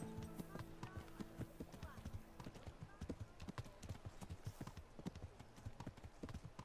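A horse's hooves clip-clop in the Kingdom Come: Deliverance video game, a brisk, steady run of close, sharp hoofbeats that continues throughout.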